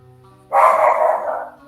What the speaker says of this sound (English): and the dog goes wild